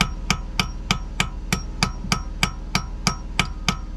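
Steady hammer blows on 100-year-old bolts of an old electric water well pump inside a cramped block building, about a dozen sharp metallic strikes in an even rhythm, close and clear with no talk.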